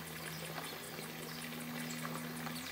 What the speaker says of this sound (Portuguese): Uma biquinha de água para deixar a água sempre